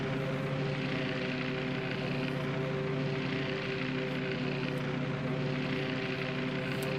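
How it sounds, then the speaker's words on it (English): Torpedo bomber engines drone in World of Warships, a steady, loud propeller hum with layered tonal whine that holds unbroken for the whole stretch, with no talking. "Let's take a ride with the torpedo bombers."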